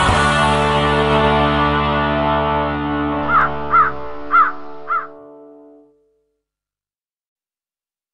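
Four crow caws ring out in an even rhythm over a sustained, distorted musical chord in a song, then everything fades to silence.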